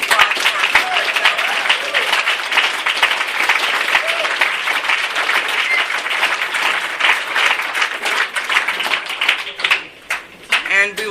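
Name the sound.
audience applause at a speaker meeting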